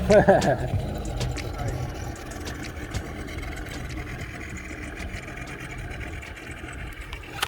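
A small dinghy's outboard motor hums steadily at a low idle throughout, with a louder burst at the start and people talking over it nearby.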